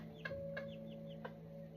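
A former battery hen clucks softly a few times, short separate calls spaced unevenly over a steady low background hum.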